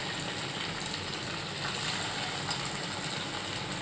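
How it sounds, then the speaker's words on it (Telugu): Snack dough deep frying in hot oil, with a soft, continuous sizzling hiss that stays faint and even throughout, with no talking. "ఓకే, డీప్ ఫ్రైకి సరిపడా ఆయిల్ వేసుకున్నానండి. ఆయిల్ వేడెక్కింది."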